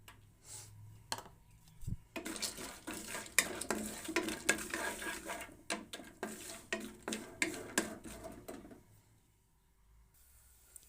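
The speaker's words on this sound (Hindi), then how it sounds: "तो ये मेरे पास ड्राई फ्रूट है, अखरोट और बादाम। तो हमने इसको हल्का सा फ्राई करना है।" Walnuts and almonds being lightly fried in a pan, with a soft sizzle beneath repeated stirring scrapes and clinks of a spoon against the metal. The sound is close and moderate, opening and closing with quieter pauses.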